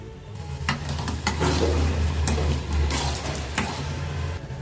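Urad dal frying in hot oil for a Tamil murungai keerai kootu, giving a steady close sizzle with scattered crackles and scraping stirs across a low hum.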